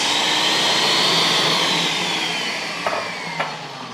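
A steady, loud whirring of an electric mixer blending cherry custard pie batter, continuous for several seconds, then tapering slightly with two brief knocks near the end.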